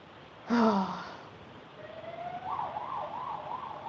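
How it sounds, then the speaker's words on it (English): A brief breathy vocal sound, then a faint, distant siren rises and wails up and down in a steady warble. "sirens are really cool too"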